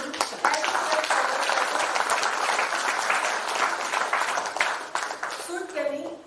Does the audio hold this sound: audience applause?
yes